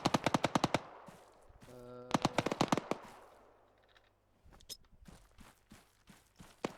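Gunfire in the military video game Arma 3: rapid bursts of automatic rifle fire, a low rumble from a grenade blast, then scattered single shots and fainter distant firing.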